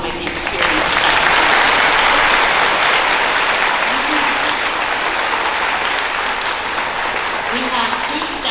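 A round of applause for school staff fills the hall at a high school faculty awards ceremony. It is loud, sustained clapping from a large audience, with a few voices audible beneath it.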